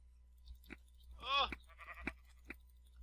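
Sheep bleating in the Minecraft Mineplex Arcade game, one short wavering bleat in the middle, set among scattered clicks and soft game noises.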